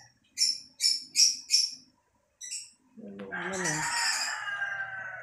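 A chicken calls in four sharp, evenly spaced squawks, then one more after a pause, followed by a long, wavering crow that carries to the end, with a short spoken phrase in the background.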